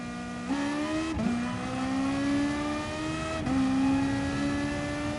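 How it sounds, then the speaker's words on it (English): AMG race car in a time-trial racing video game, engine revving high and loud on its own, its pitch climbing steadily and dropping briefly at about three quick gear shifts. "It revs so high, I think that's what I love about it."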